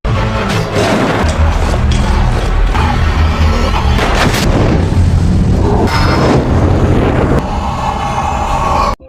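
A loud explosion in The Colony (2013), a survival film set on a frozen Earth, heard as heavy booming blasts and crashing debris that rumble continuously for several seconds.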